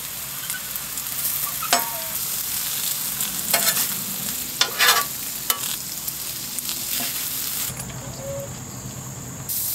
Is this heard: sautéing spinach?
yes